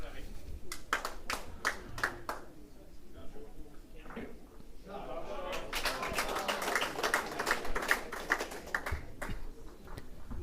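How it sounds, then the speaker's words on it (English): Spectators at a bowls match burst into scattered claps that swell into a dense round of applause and cheering, with voices talking over them. "A lot of claps and cheers going on."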